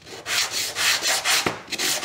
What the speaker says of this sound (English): basically sand it down a little bit